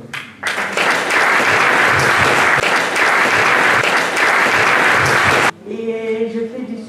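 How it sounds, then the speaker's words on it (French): A crowd at an award ceremony in Champagne-Ardenne gives loud, sustained applause that fills the room for about five seconds, then cuts off abruptly, leaving a quieter tonal sound behind. "Donc un gros applaudissement"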